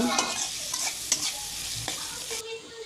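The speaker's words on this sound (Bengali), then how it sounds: "সব কিছু একসাথে নেড়ে চেড়ে নিব তারপরে দিয়ে দিব একটা টমেটো কুচি আবার একসাথে মিশিয়ে নিব" Soybean curry with chopped tomato being stirred in a frying pan, steady sizzle under repeated scraping strokes of a spoon against the pan, close and fairly loud, then quieter at the end.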